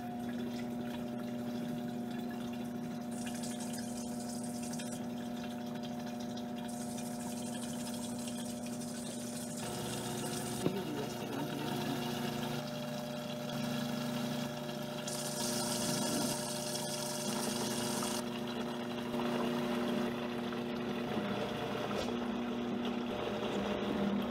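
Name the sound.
high-speed blender mixing mayonnaise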